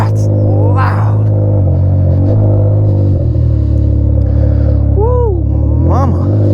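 2021 Can-Am Ryker Rally motorcycle with a loud aftermarket exhaust, a continuous deep rumble heard close while riding, with brief whistling or squealing tones over the top.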